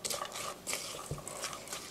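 A utensil stirring a meat sauce mixture with bread crumbs in a bowl, giving soft scraping and clinking against the dish with light wet patter, close and fairly quiet.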